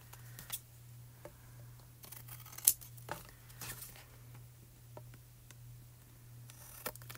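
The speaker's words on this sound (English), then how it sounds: "I told you guys how much I love these Spellbinder scissors." Spellbinder scissors snipping through a paper pumpkin stencil, giving a series of faint, close, crisp clicks and short cuts spread over several seconds against a steady low hum.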